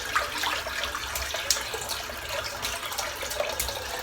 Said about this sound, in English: fill the sink up with some nice cold water